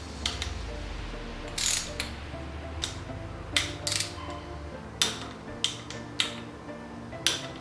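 Ratcheting wrench torquing bolts on a YZ125 motorcycle, short bursts of clicking pawl sounds close up, separated by sharp snaps as each bolt reaches torque.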